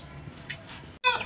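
Aseel chickens, hens and roosters move about, giving faint soft clucks, followed by a brief louder squawk at the end.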